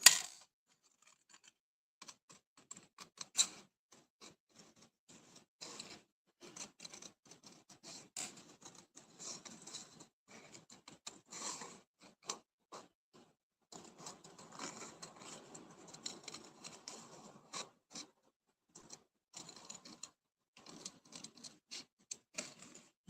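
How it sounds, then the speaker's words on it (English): Scissors fussy cutting around a paper piece for a spring card, with close, quiet, rapid snips in uneven runs separated by short pauses, continuing steadily with no talking. "Let's fussy cut that."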